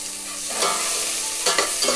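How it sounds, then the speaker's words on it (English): Onions and chilies frying in a pan for mushroom biryani, a constant bright sizzle broken by a few scraping stirs, near and moderately loud, without voices. "Got the onions in there, okay, and the chilies."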